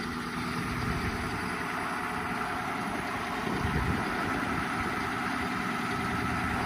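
A diesel truck engine idles in below-zero weather, a steady low rumble that carries on unbroken at close range with no talk.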